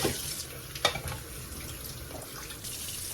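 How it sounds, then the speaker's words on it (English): Tap water runs steadily into a kitchen sink as plates are rinsed, a faint continuous hiss and splash with a few brief clinks of dishes, and no voices. "we have to start rinsing the plates. Remember to rinse from inside out."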